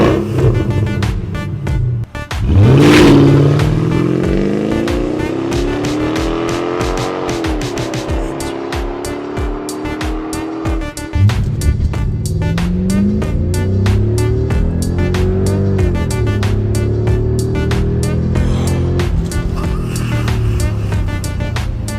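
A 2003 Mercedes E500 V8 accelerating hard from a standstill in a 0 to 100 run, engine note climbing loud and close through several gear changes, with a brief tire squeal from lost traction near the start.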